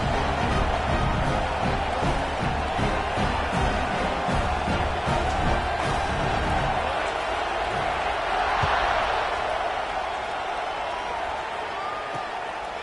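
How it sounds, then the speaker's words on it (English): A football stadium crowd at a UCLA vs USC game buzzes after a score. A dense, steady murmur of many voices carries on and gradually thins and softens toward the end. "this crowd is buzzing after that last score"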